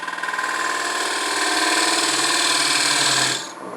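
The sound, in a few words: detail gouge cutting wood on lathe for bottle stopper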